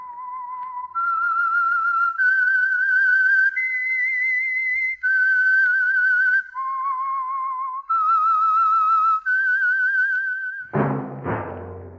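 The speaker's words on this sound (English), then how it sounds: "That whistle is your signal for the Signal Oil Program, The Whistler." Theme whistling for The Whistler, a 1940s radio drama, plays as a clear solo melody of sustained, wavering tones rising and falling in steps, loud and close, ending with a brief orchestral sting.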